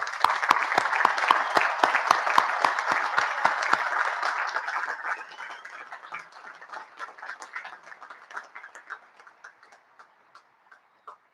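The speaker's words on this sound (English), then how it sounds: "Join me in a round of applause for these groups." Applause from the crowd at the West Point commencement ceremony, loud and dense at first, then thinning into scattered individual claps that fade out by the end.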